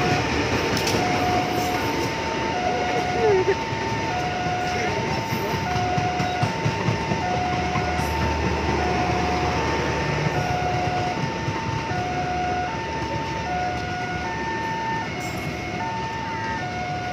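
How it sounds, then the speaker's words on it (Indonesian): The Probowangi passenger train, hauled by a CC 201 "Raja Kobong" diesel locomotive, rumbles past for a long stretch with continuous rail clatter and regular short beeping tones over the roar. "ada kereta api Probowangi yang melintas yang sama-sama ditarik lokomotif Raja Kobong"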